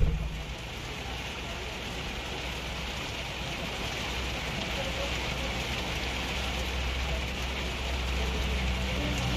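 Steady rain pattering on a surface, a continuous dense hiss that holds level throughout with no pauses.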